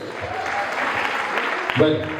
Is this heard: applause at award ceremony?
yes